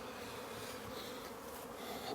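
Honey bees drone in a steady, faint, even buzz at a hive entrance outdoors, with no other sound standing out.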